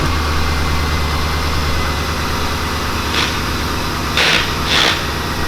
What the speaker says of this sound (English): Little cold start for the boys.